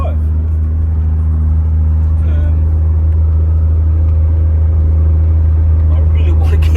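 A car drives on its first run after its Mr BTR controller was fixed, a loud steady low engine rumble from inside the cabin that holds an even drone throughout, with a voice talking over it.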